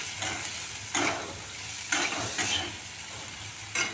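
Potato and mung dal are stirred in a hot pan with a soft continuous sizzle, broken by four scraping sweeps of the spoon at roughly one-second intervals, close and steady with no voices.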